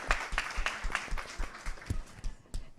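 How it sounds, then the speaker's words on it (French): A conference audience applauding, a sparse, uneven patter of claps from a small group, fairly close and fading out toward the end. "Ça s'applaudit, oui, soyez pas timide."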